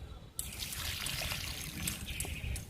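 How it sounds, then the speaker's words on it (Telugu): Liquid fertilizer pours steadily onto a potted adenium plant, a continuous close trickle and splash lasting a few seconds. "ఎడేనియం ఈ మొక్కకి ఇచ్చేద్దాము లిక్విడ్ని."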